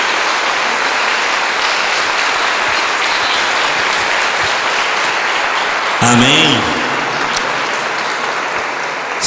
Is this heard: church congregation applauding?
yes